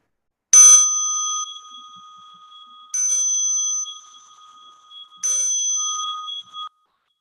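A bright bell rings three times at slow, even intervals, each strike clear and close, its tone lingering and fading before the next.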